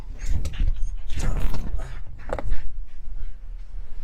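Quick, breathy dog panting close by, rhythmic huffs mixed with rustling and handling noise, with a person's voice briefly in the background.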